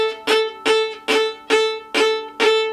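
A bowed string instrument plays six short, crisp collé strokes at the frog of the bow, each a sharp pitched attack that decays quickly, evenly spaced about half a second apart and heard alone.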